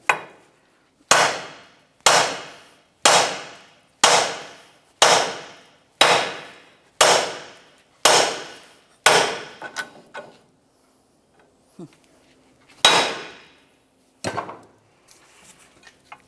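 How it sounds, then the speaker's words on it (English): A hammer strikes the bottom of a steering knuckle on a 2000-2006 Chevy Tahoe, about ten loud ringing metallic blows at a steady one-per-second beat, then a pause, a few scattered hits and faint rattles. "Now let's use our hammer down along the bottom of the knuckle to separate this as well."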